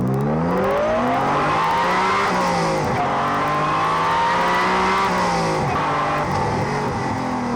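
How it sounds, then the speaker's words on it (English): A Honda NSX engine revs hard and steadily, its high-pitched VTEC howl rising and dipping through several rev changes, loud and close with no talk over it. "Just listen to that engine."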